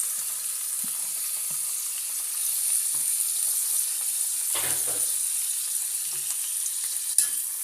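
Tomato and onion sizzle in hot oil with mustard seeds, a steady, fairly soft crackling hiss broken by occasional light knocks and clicks of a spoon.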